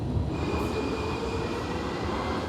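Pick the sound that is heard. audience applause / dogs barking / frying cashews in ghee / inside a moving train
inside a moving train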